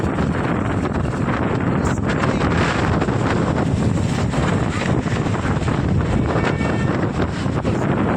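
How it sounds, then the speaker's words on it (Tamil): Strong sea wind on the Pamban bridge buffets the microphone in a constant loud roar with gusting rumble throughout, covering everything else. "சரியான காத்தடிக்குது"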